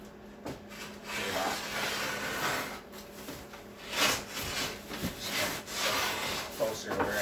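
Excess material being shaved slowly off a custom windshield for a Polaris RZR 900S UTV, steady close rubbing and scraping with a few louder strokes and short pauses.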